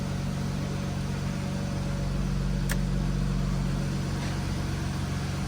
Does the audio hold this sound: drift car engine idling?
yes